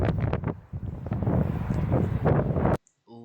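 Strong gusts buffet the microphone outdoors at a car show with dust blowing, a loud rumbling roar that surges and dips before cutting off abruptly near the end.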